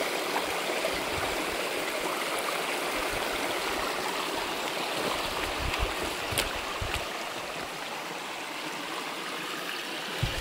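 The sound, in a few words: stream water flowing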